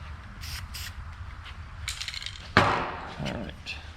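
Short hissing spray bursts come while working on wheel tub brackets for a 1967 Chevelle: two quick puffs early, then a stronger, longer spray near the end, all fairly quiet against background shop noise.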